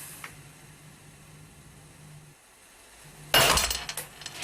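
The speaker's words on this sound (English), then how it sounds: "The increasing force on the pin eventually snaps it in two." A metal pin held by a cooling, contracting bar snaps in two with a sudden sharp loud crack, followed by a brief metallic rattle after a quiet hum.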